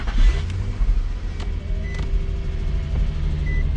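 A Dodge Charger 392 Daytona engine starts with a deep low rumble that then settles into a steady idle, while a few short electronic chimes sound over it inside the car.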